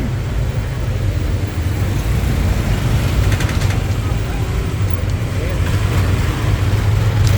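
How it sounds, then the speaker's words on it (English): Stop-and-go traffic in a jam on a Pattaya beach road, heard while riding: a loud, continuous rumble of engines and road noise that swells slightly toward the end. "I think we're in a little bit of a traffic jam."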